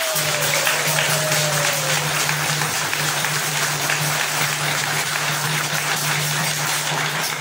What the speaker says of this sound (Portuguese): E para todos nós aqui, devotos e peregrinos, uma salve de palmas!